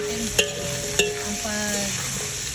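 Carrots being stir-fried for chopsuey, a steady sizzle with two sharp utensil clinks against the pan, no talking.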